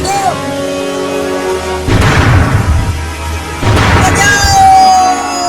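Firecracker going off in a Hindi cartoon, two loud booming bursts about two seconds apart over a background music bed.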